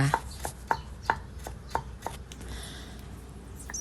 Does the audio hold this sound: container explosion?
no